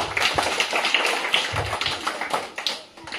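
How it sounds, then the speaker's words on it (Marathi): Children clapping hands during an educational group game, a quick, uneven run of close claps and taps, some overlapping, with no talking. "टाळ्या वाजवा."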